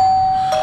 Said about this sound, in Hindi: अब हम घंटी बजाएंगे